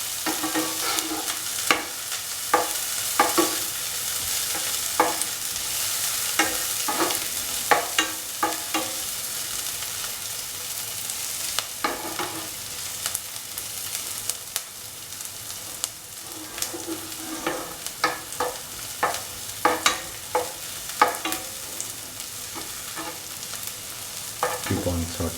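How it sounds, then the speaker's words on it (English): Onions sauté and sizzle in a pan while being browned, a continuous frying hiss broken by repeated sharp scrapes and clicks of stirring across the whole stretch. "Keep on sauteing."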